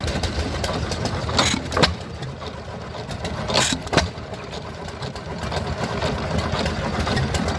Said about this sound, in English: Hear how very rarely that cylinder goes off to keep the wheel going.